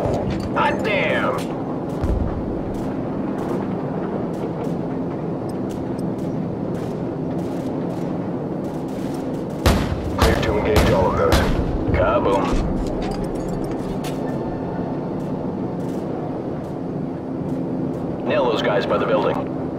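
Gunship fire from the Call of Duty: Modern Warfare video game pounds enemies in a junkyard with booming explosions and bursts of gunfire over a steady aircraft drone, while radio voices talk throughout.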